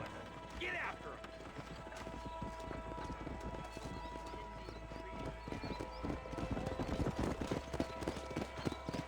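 A horse gallops in Red Dead Redemption, with rapid rhythmic clip-clop hoofbeats running throughout, joined by a brief whinny near the start, over game background sound and talk.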